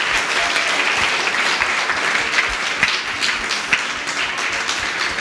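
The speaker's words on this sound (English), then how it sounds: "One more round of applause for them." Continuous audience applause after a kids' presentation at a concluding session, dense even clapping with a few sharper individual claps standing out.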